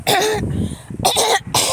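A person imitates clearing their throat with a few harsh, raspy bursts of moderate loudness, separated by short gaps.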